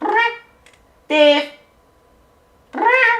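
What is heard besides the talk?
cat meowing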